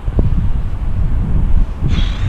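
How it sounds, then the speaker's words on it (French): Wind gusting across rooftops in Grenoble on a sunny day, buffeting the microphone with a loud, continuous low rumble that swells and dips, with a brief higher hiss near the end. "On n'est pas trop à l'abri du vent"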